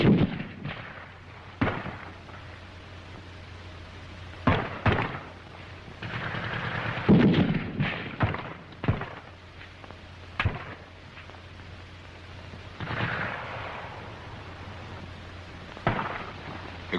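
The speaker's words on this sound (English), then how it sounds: "The grenades open up the charge." Grenade explosions and rifle and machine-gun fire during a WWII infantry squad assault, heard as scattered sharp blasts and cracks spread across the stretch, some isolated and some in brief clusters, with no talking.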